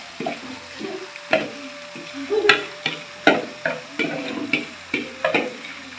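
A spoon stirs saag in a pot in a Punjab village kitchen in Pakistan, scraping in regular strokes about every half second over a soft sizzle.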